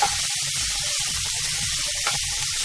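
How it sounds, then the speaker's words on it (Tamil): Cut okra (vendaikkai) sautés in hot oil in a pan, giving a steady close hiss and crackle that does not let up. "எண்ணெயில் வெண்டிக்காயை போட்டு வதக்கணும்"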